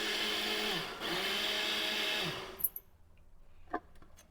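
An electric mixer grinder blending medicated buttermilk whirs loudly and steadily up close, its pitch dipping as the load shifts, then cuts off abruptly, leaving faint clinks.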